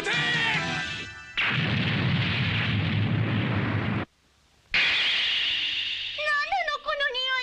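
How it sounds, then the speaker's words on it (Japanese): An anime battle erupts in a dense, loud volley of blasts and crashing impacts that roars for several seconds, cuts out briefly, then resumes amid shouting voices. "一斉射撃だ。"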